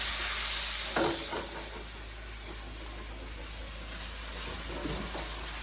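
Chicken fried rice stir-frying in a hot pan with a few shakes of soy sauce, a steady hiss and sizzle with a louder burst early on, then continuous moderate frying.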